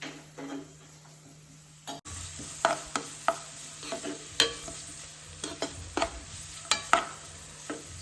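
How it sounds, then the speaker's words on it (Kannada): Onions fry in a pan with a steady close sizzle, while repeated scraping and clacking stirring strokes land at irregular intervals. "ಈರುಳ್ಳಿ ಫ್ರೈ ಆಗುವಾಗಲೇ ಸ್ವಲ್ಪ ಉಪ್ಪು ಹಾಕಿದ್ರೆ ಬೇಗ ಬೇಯುತ್ತೆ ಈರುಳ್ಳಿ"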